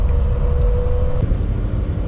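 A Toyota FJ Land Cruiser, a mid-1970s model, cruises at about 45 mph on a bumpy country road, giving a steady, loud engine and road drone with a brief tonal whine that cuts off partway through.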